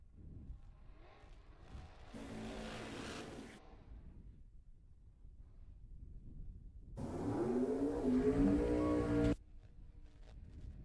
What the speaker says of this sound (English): So the Rabbit, gonna be leaving first in the door car.